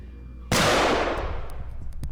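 A single sharp gunshot cracks out after a half-second of quiet, then rings and echoes for more than a second with scattered faint clicks.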